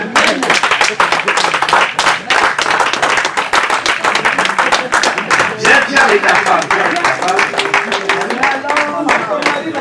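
Audience at a 60th birthday party clapping loudly and steadily in fast rhythmic applause to greet a guest, close and continuous, with voices calling out and talking over it.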